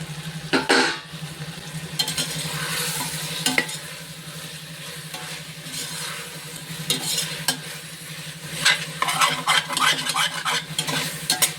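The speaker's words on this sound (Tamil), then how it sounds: "இதை நல்லாவே வதக்கிக்கிறணும் சுருண்டு வர்ற அளவு" Mint and coriander leaves sautéed in a pan while making vegetable biryani, with a steady sizzle and repeated stirring scrapes of a spoon against the pan, close and continuous with no talking.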